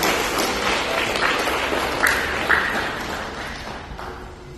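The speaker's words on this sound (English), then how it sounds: "Let's give her a big round of applause for Ms. Raquita." Audience applause following a speech at a Pacific Women gender equality event, a steady wash of clapping from a crowd lasting several seconds and slowly tapering off.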